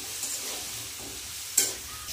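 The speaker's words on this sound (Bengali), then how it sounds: "সবজিটা হালকা একটু ভেজে নেব" Vegetables lightly frying in a pan for khichuri give a soft, steady sizzle with a brief clatter of stirring near the end, close and without talk.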